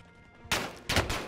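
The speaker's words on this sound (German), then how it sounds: "Schüsse auf mich, Reapers" Gunfire in the Call of Duty Warzone Mini Royale video game, two loud bursts of shots close together after a quiet moment.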